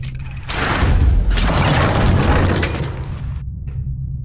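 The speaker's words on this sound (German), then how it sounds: "The explosions didn't affect the room." Bombs explode in the video game Verne: The Shape of Fantasy, a loud, sustained booming blast that rumbles for a few seconds before cutting off abruptly.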